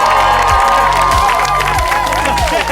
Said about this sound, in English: Please, huge round of applause for Script Not Found